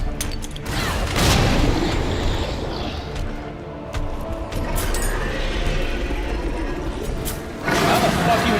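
A deep grenade explosion booms in a video game, followed by rumbling game effects and a second loud blast near the end, with players talking over it.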